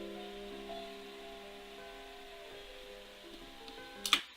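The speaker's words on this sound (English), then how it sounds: "the sample's already reversed in itself, it's a reverse piano" A reversed piano sample flipped back to play forward, its sustained notes ringing with long reverb tails at a soft, steady level before a sharp click right at the end.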